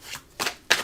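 Three quick, close swishes and flicks as tarot cards are shuffled and slid through the deck, each one short and crisp with a brief gap between them.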